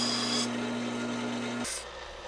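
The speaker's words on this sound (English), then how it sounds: "The sander also provides a quick way to deburr aluminum pieces, removing sharp edges." A disc and belt sander deburrs a small aluminum piece, giving a steady rasping grind over the motor's hum that cuts off abruptly near the end, leaving faint background noise.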